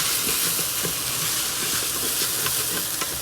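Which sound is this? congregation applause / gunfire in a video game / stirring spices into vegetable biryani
stirring spices into vegetable biryani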